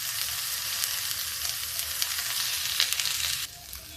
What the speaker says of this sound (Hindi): देखिए जब तक गोभी मेरी इधर भून रही है